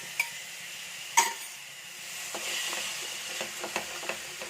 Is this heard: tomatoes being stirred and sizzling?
yes